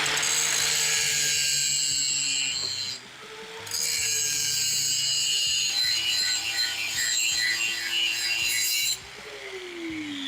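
An angle grinder cutting metal while a disc golf launcher is built, a loud continuous high-pitched whine with shifting grinding tones, briefly dropping and resuming, close by.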